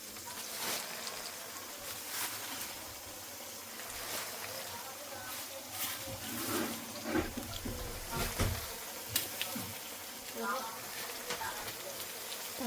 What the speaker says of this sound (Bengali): সবকিছু তো ভালো করে হালকা করে ভেজে নিয়েছি, এবার শাকগুলো দিয়ে দেবো, পাতাগুলো